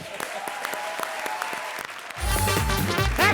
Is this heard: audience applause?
yes